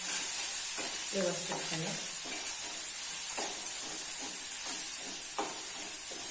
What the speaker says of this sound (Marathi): आपण ठेचा चांगला परतून घेऊया